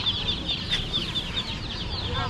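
Chicks cheep in a steady stream of high, repeated peeps at a busy rural market, with chatter and general crowd noise underneath.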